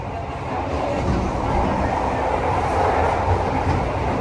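Steady loud rumble and rattle inside the dining car of the Malabar train in Indonesia, continuous rail clatter filling the space without pause.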